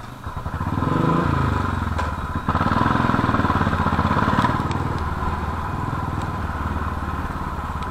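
Royal Enfield Bullet motorcycle engine running steadily while riding, a close, continuous low thumping rumble with no speech.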